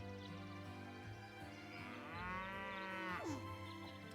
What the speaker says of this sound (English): What should we name our new cow?